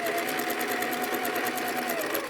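A sewing machine runs in a steady, fast whirring stitch while piecing Winding Ways quilt block fabric, close and continuous for the whole short stretch.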